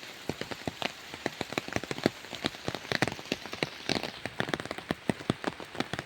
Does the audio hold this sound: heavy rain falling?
yes